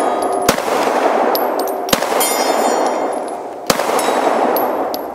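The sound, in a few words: accidental gunshot from a Glock 26 pistol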